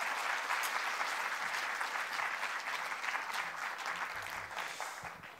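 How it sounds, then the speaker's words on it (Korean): A church congregation claps warmly and continuously to welcome a speaker, loud and even at first, then gradually thinning and fading toward the end. "박수로 우리 환영하겠습니다."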